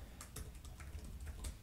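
Quick, light keystrokes on a computer keyboard, about half a dozen close, soft clicks in an irregular burst with no voices.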